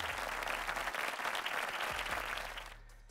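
A small family group clapping for themselves after a beginner jab-cross boxing workout, a few seconds of brisk applause that thins and fades out at the end, with no voices.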